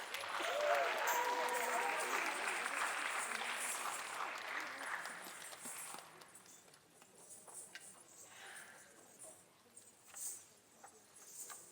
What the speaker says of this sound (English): So, a round of applause for Sapna, please.